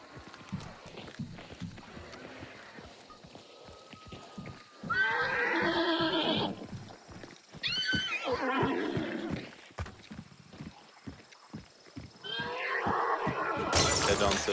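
Video game horses in Hunt: Showdown neigh and whinny loudly in several bursts over steady clip-clopping hooves, with a sharp shattering sound near the end.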